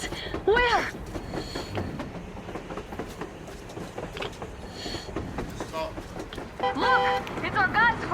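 Train from the video game Metro Exodus passing on the surface, a rumbling, rattling rail roar that carries throughout beneath dramatic music tones and overlapping voices.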